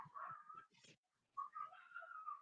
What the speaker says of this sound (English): Can you hear my dogs? They won't shut the hell up.